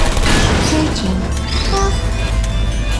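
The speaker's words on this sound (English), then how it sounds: "That's half the servers on this side blown up." Servers blowing up in Portal Stories: Mel, a loud, dense rumble of booms and crashing debris that runs unbroken for the whole span, with faint mechanical tones threaded through it.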